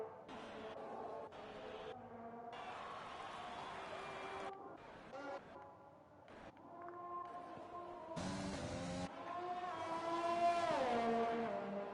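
An F1 race car engine lapping the Bahrain circuit in the video game F1 2020, its whine rising and falling through gear shifts and cutting in and out, loud and continuous.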